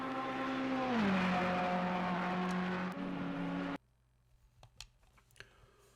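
A Ferrari GT race car in Assetto Corsa Competizione, during GT Masters pre-qualifying, holds a loud, steady engine drone with a dip in pitch before the sound cuts off abruptly, leaving faint scattered clicks.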